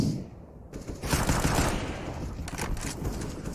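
In Counter-Strike on Dust2, a decoy grenade fakes gunfire with a continuous rattling burst of rapid shots that swells and holds steady, fairly distant and slightly muffled.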